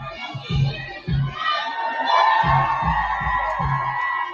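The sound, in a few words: crowd screaming at a rally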